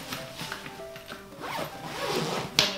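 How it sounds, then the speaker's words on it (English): A zipper is drawn shut on the organizer of a Joovy Room playard, a continuous close-up rasping run of teeth with small bumps and a sharper snag near the end. "Then you zip that closed"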